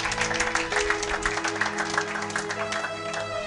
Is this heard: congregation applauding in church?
yes